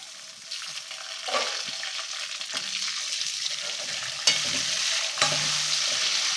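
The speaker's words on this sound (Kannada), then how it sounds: "ಸ್ವಲ್ಪ ಎಣ್ಣೆಗೆ ಚೆನ್ನಾಗಿ ಫ್ರೈ ಮಾಡ್ಕೊಬೇಕು" Masala frying in a little oil in a pan makes a soft, continuous sizzle with scraping stirs and a few louder clacks of the spoon against the pan, with no one speaking.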